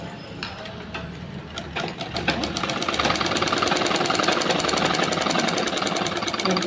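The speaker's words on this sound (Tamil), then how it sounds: "மிஷினில் வச்சு ஒரு தையல் போட்டுக்கிறீங்க." A sewing machine runs steadily while stitching a lined blouse, starting with a few short bursts and then settling into a loud, continuous rapid mechanical rattle that holds to the end, with no talk over it.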